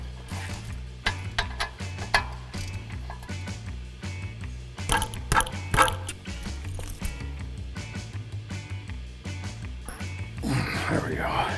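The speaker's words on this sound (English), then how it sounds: "Remove the caliper bracket bolts." A ratchet works the brake caliper bracket bolts loose during a brake job, giving close, rapid clicking bursts with metallic clanks, ending in a rougher scraping rattle.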